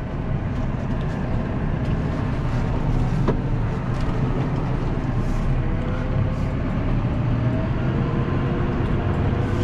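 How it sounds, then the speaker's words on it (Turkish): A Massey Ferguson 5S.135 tractor pulling away, a steady loud diesel engine drone with constant low rumble heard from close by, no talk. "traktör başlıyor gitmeye"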